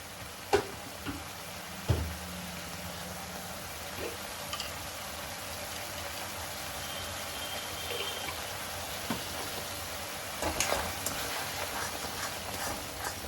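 Loita (Bombay duck) fish mixture with a little sugar and garam masala is stirred in a frying pan, giving a low steady sizzle with a few sharp spatula scrapes and knocks near the start and again around ten seconds.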